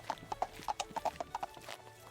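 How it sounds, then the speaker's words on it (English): A horse's hooves clip-clop in a quick, uneven run of sharp strikes on a road, sounding close and moderately loud with no voices, like an approaching rider on a black horse. "Hooves, coming fast, too fast."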